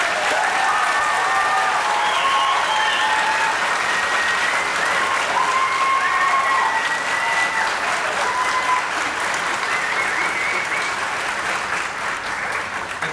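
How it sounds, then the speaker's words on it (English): Sustained applause from a commencement audience cheering graduating high school seniors, dense steady clapping with a few faint shouts and whistles throughout. "Let's give these graduates a round of applause."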